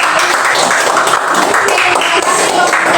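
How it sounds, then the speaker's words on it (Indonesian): A second-grade elementary class claps together in sustained, steady applause for a few seconds, dense and fairly close. "kita tepuk tangan untuk kelompok"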